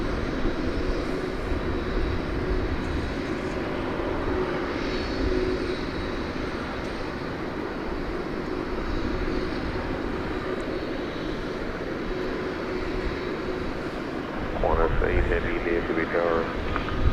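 An airliner takes off at night at DFW Airport, its engines a steady, broad distant roar that holds throughout, with a brief swelling whine near the end.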